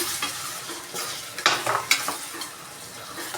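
A ladle stirs a ridgegourd and tomato curry in a pan, scraping and sizzling softly with a few sharper clinks, close and steady with no talk.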